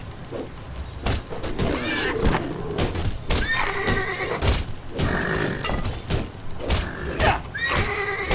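In the video game Titan Quest, a horse neighs and whinnies repeatedly in shrill, wavering bursts, mixed with clip-clop hoof beats and scuffling combat sounds close by.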